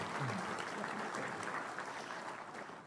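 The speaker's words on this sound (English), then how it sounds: "Give them a round of applause." Conference audience applauding a presenter's assistant at a general session, a steady wash of clapping held for about three seconds and gradually easing off, fairly distant and moderate in level.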